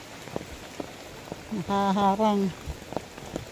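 Heavy rain falls steadily as a constant hiss, with a brief voice and a few tonal calls partway through and scattered knocks around it.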